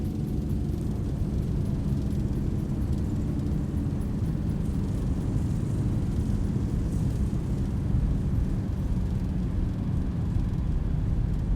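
Boeing 737 thrust reversers deployed after landing: a loud, steady, broadband engine roar with heavy low rumble, continuous and unbroken throughout, heard from inside the aircraft.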